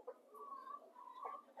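Soft, quiet clucking from hens taking a dirt bath, a few low murmuring calls and short clucks close by, with no talking.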